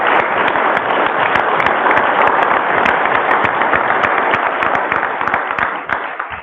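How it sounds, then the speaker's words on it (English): A meet-the-candidates forum audience claps loudly and continuously for the candidates on stage, a full round of applause that tapers at the end. "Let's give, all of them another round of applause."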